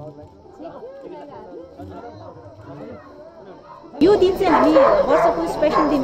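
Police dogs at a Kukur Tihar festival event bark and yip amid someone speaking, the barking becoming loud and dense in the last two seconds with crowd chatter.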